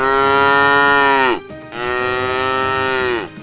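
A cow moos loudly and close by, two long drawn-out calls one after the other with a short pause between them and no other sound.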